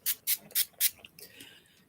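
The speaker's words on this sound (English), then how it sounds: "I just spray my face," A few quick pumps of a rose water spray bottle misting onto a face, four sharp hissing bursts in a steady rhythm, close and clear, followed by fainter softer spritzes trailing off.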